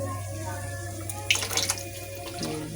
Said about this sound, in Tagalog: lagyan natin siya ng konting tubig guys